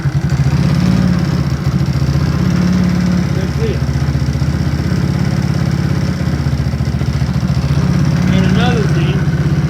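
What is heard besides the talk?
supercharged Postie Bike motorcycle engine idling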